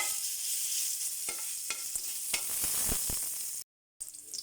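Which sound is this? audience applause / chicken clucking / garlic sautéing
garlic sautéing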